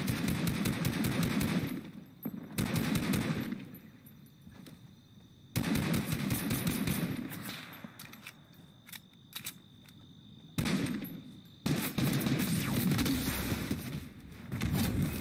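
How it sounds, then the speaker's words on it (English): Rapid video-game machine-gun fire in a shark-riding shooter match, loud bursts of sustained automatic shooting separated by short quieter gaps, repeating several times with no speech. "Oh, I can see him. Shooting at me."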